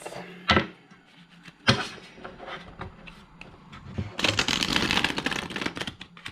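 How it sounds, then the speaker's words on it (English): Tarot cards are handled and shuffled close up: a few sharp knocks and riffles, scattered papery flicks, then a sustained rapid shuffle with a dense crisp rattle. "Let's shuffle the cards"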